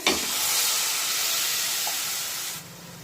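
Masala cooking in a wok hisses into a loud steamy sizzle as about a quarter cup of water goes in, with a sharp burst at the start, a steady hiss, then an abrupt drop to quiet.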